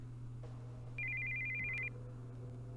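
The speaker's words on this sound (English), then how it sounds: "we hear the sound of an incoming call on a cell phone." A cell phone's incoming-call ringtone from the Steins;Gate 0 video game sounds as one steady, bright electronic tone lasting about a second over a low background hum.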